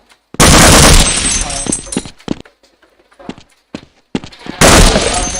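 Rapid automatic weapon fire at the Black Mesa target range in a video game, loud close bursts at the start and end with sharp single shots and clacks scattered between them.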